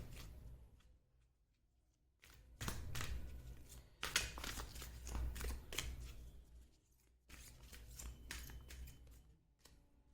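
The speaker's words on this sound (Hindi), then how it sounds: "इतने मैं कार्ड शफल करती" A tarot deck is shuffled by hand in several short, quiet bursts of riffling and papery rustling, separated by near-silent pauses.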